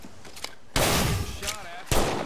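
Bursts of gunfire from an Apex Legends match, two loud broadband blasts with a brief pause between, close and harsh, over low game noise.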